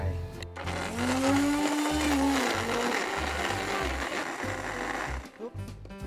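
An electric juicer whirs loudly and steadily, cold-pressing chopped, peeled, very ripe green melon into juice, with a rising motor whine near the start and continuous grinding that settles down toward the end.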